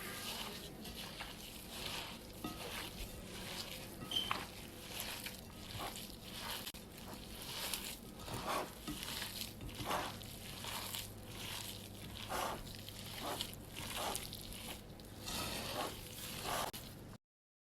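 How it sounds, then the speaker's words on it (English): Hands mixing raw meatloaf mixture with vegetables and spices, a steady run of soft wet squelching and slapping pulses, close and continuous with no talking. "Okay, time to mix everything together."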